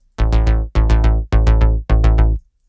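Moog synth bass playing alone in a synthwave backing track: four sustained, loud bass notes with sharp attacks and clean gaps, rich in harmonics, with no other instruments or voices.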